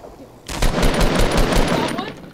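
Rapid automatic gunfire from a battle royale video game breaks out suddenly and goes on as a dense, loud series of sharp shots.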